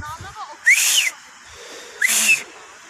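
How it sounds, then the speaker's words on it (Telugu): A person whistles outdoors in the snowy cold of Sonamarg, two short rising-then-gliding whistles about a second apart, clear and close over a quiet background. "ఇప్పుడు నేనైతే ఒక విజిల్ కొడతా,"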